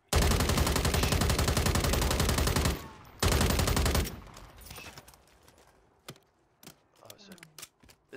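Rapid gunfire from a Call of Duty Warzone match rattles loudly in two dense bursts, then thins out into scattered distant shots and game noise over faint background chatter.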